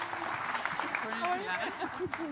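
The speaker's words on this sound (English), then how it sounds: "An applause, yes." Audience applause greets a sustainability panel walking onto a conference stage, moderate steady clapping with people talking over it.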